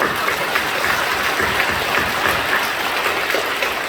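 A church congregation at an Easter Sunday service claps in a dense, even burst of applause that fills the whole moment at a steady loudness.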